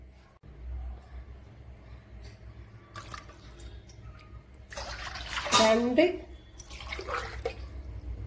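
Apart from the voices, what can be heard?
pouring water into a pot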